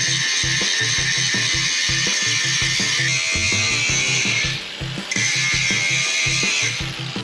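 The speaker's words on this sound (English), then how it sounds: "I'm just gonna give it a grind because they're really not the prettiest welds." A power grinder works down rough welds in a loud, continuous high whine with a rhythmic low chatter underneath, dipping briefly partway through before resuming at full strength, with no talk.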